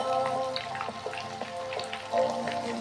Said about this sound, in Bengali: এটা এখন একটু ফ্রাই হোক